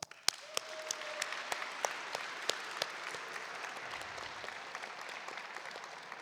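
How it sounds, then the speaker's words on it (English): A conference hall audience at a model UN opening ceremony applauds the secretariat, a sustained, moderately faint round of clapping with a few distinct sharp claps near the start. "let's give them the massive round of applause"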